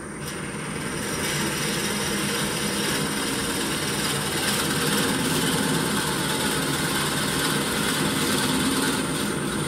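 A wood lathe runs steadily at speed while a drill bit bores into a workpiece for a hollow globe ornament, giving a constant loud whirring machine drone with no pauses.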